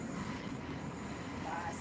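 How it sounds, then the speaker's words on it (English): A passing train fills the scene with a continuous rumbling roar and a faint high squeal of wheels, steady and fairly distant, with no clear talk over it. "a lot of noise, the train passing."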